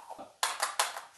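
A cheap wired foot pedal switch, the kind used with a blender, is pressed twice, each press giving a loud, sharp clack in the quiet, close to the microphone.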